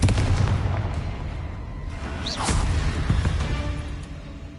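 A Confringo fire spell cast in Hogwarts Legacy, heard as a sharp whooshing launch followed by a booming blast over a dense, rumbling game ambience, with one swell of impact in the middle.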